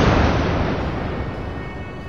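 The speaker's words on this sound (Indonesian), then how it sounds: "Dinamit pun meledak dengan hebat." A single deep dynamite explosion erupts loudly at the start, then its rumbling roar slowly fades away.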